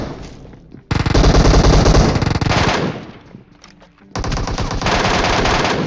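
Automatic gunfire from a PUBG battle royale match, with loud sustained bursts of rapid shots, a brief dip in the middle, then another long close burst.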